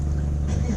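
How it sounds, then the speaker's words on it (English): A boat engine idles at night on a bass fishing outing, a steady low throbbing drone heard up close with no break. "We start the engine so you guys do your thing."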